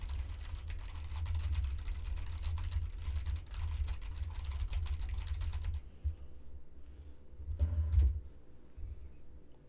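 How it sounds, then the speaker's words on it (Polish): Steady, rapid computer keyboard typing, picked up by a HyperX SoloCast microphone with no noise gate, fills the first six seconds, then stops, leaving quieter room noise with a brief low thump near the end. "Możemy zobaczyć, jaki będzie poziom dźwięku klawiatury."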